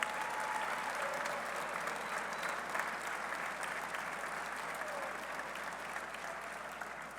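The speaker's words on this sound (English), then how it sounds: "Please stand up and let us give you a round of applause." Sustained audience applause for university leadership and the Board of Governors at a West Virginia University football press conference, a dense steady patter of many hands clapping throughout with no talk over it.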